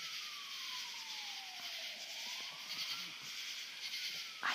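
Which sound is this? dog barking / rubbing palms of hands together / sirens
sirens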